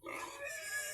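Large pigs in a family pen give a faint, brief oink and grunt, low in level and heard alone for about a second.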